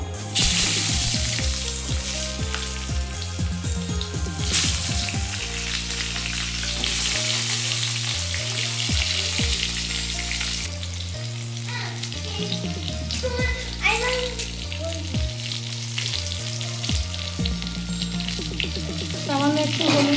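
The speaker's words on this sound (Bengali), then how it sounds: "আমি ওই তেলেই বেগুনগুলো একটু ভেজে নেবো" Eggplant pieces frying in oil left from frying fish, a steady close sizzle running throughout under loud backing music.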